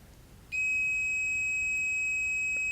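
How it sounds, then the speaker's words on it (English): A multimeter in continuity mode, probed across a MOSFET on an Xbox One S board, gives a sudden loud, steady electronic beep that starts after a quiet half-second and holds unbroken to the end. "so that shouldn't be beeping"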